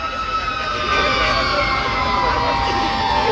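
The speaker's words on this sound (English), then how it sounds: "Comes the ambulance." An ambulance siren wails steadily and loudly as the emergency vehicle approaches, its sustained rising and falling tone riding over a constant rumble of background noise.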